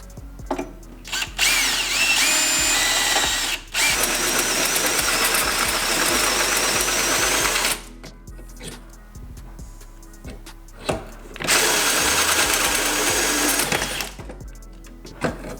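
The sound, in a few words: power drill drilling a hole in a lawn mower frame for the axle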